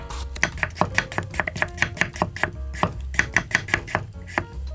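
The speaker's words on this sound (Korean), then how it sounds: "길게 채를 치면 부치기가 뭐하니까 짧게 채를 치세요." A knife cuts carrots into short julienne strips on a cutting board, giving a fast, even run of sharp, close taps with no voices.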